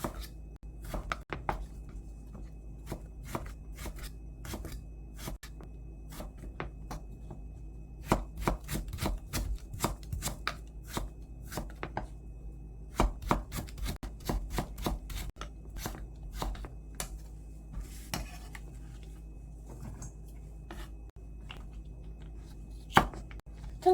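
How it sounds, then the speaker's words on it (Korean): Knife slicing burdock root into slightly thick pieces on a cutting board, with sharp, fairly rapid chops in irregular bursts and short pauses, close and clear with no talk. "살짝 도톰하게 썰어서 준비해주고요."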